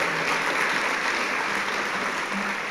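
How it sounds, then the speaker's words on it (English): An audience at a service dog class graduation claps loudly and continuously, a dense unbroken roar of applause throughout. "how about we give a big round of applause for this lady here?"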